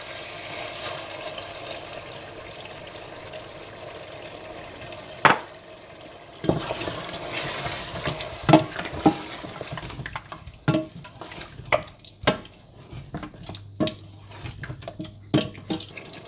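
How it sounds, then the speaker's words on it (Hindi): Yogurt is stirred into simmering, tenderised meat for rogan josh, with wet scraping and clattering spoon knocks in an irregular rhythm over a low sizzle. "गोश्त अच्छा सा गल जाए तो इसमें दही डालकर मिला लें"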